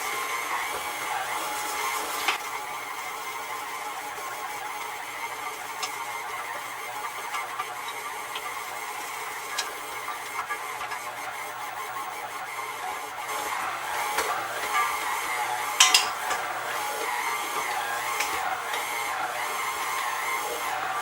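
Stand mixer with a dough hook kneading pizza dough for breadsticks, a steady close motor whir and hum that runs unbroken, with faint knocks and clicks from the bowl and no talking.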